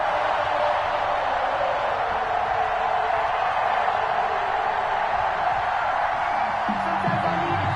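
A large stadium crowd roars steadily at an NFL game between the Kansas City Chiefs and Carolina Panthers, a dense, continuous wash of cheering and whooping with no break.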